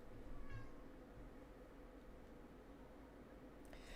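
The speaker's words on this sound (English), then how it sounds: "Cat's going crazy." Indoors, a cat gives a short meow near the start, fairly faint over a low background hiss, followed by quiet rustling.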